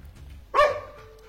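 A dog indoors barks once, a single sharp, fairly loud bark in an otherwise quiet room.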